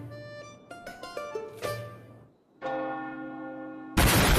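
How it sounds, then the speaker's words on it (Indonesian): A church bell rings out in several resonant strikes, fading briefly before a long sustained toll, then a burst of noise cuts in at the end. "Lonceng kematian, maksudnya pemberitahuan tentang penyerahan hak istimewa bagi penyihir kelas 1 pun berbunyi"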